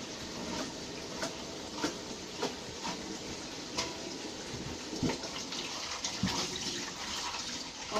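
Tap water runs steadily while a bowl is washed beneath it, with soft clinks and knocks of the dish repeating every second or so, quiet and close, no talking.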